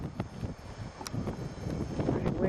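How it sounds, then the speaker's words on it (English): Strong gusts of a snowstorm in Island Park blow through trees after about eight inches of snow, a gusty rumbling roar with rustling that swells and eases, buffeting the microphone. "now the wind is up and it's blowing the trees around"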